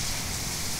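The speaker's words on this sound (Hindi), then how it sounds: "और अच्छी खासी मूसलाधार बारिश हो रही है।" Heavy torrential rain pours down during a night thunderstorm, a dense, loud, unbroken roar of water close by with no voices.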